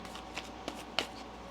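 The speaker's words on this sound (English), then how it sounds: "One more shuffle." Tarot cards shuffled by hand make a soft, quiet riffle with a few faint flicks and taps spread over a moment, close up and without talk.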